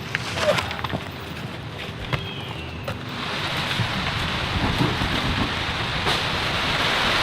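Steady heavy rain pouring down on the Amazon jungle canopy with a dense, continuous hiss, growing slightly louder over time, with scattered drips and patters nearby.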